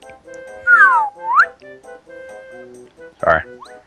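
A voice imitates a slide whistle: a rising and falling gliding whoop, then a quick upward swoop, set among game music and a brief vocal outburst near the end.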